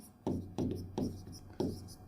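Chalk or pen strokes on a board during a physics lesson, four short, distinct scratchy taps and scrapes in an even rhythm, close and moderately quiet.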